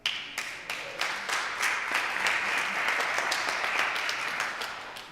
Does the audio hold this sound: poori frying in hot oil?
no